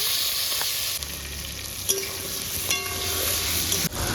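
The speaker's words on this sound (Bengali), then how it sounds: "ওই তেলের মধ্যে একটু জিরা সম্বার দিয়ে দিলাম, আলুগুলো, টমেটোগুলো" Cumin, potatoes and tomatoes fry in hot oil with a steady close sizzle, punctuated by a few clinks and scrapes of a spoon stirring in the pan, and no talk.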